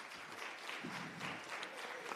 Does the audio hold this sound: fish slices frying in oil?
no